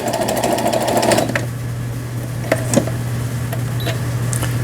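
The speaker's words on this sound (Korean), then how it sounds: "지그재그 바느질" A Brother sewing machine runs a zigzag stitch in a short fast burst of rhythmic clatter, then stops, leaving a steady motor hum with a few light clicks.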